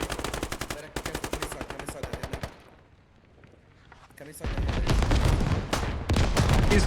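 Full-automatic gunfire from a Fallujah insurgents-versus-Russian-armor video game, a rapid, loud rattling burst of shots, a brief lull, then a dense, heavy roar of continued fire with blasts, all under ongoing voices.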